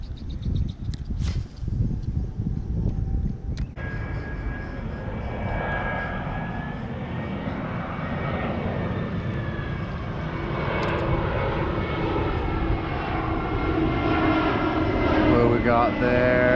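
A passenger airplane, a Frontier airliner near Orlando airport, roars steadily overhead, a loud broad engine rumble swelling slightly over many seconds, with a few faint clicks early on.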